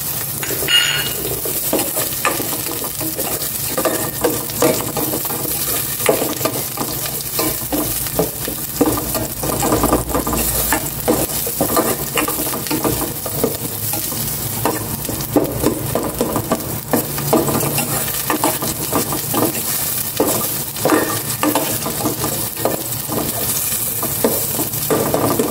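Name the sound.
sautéing onion and pork in a pan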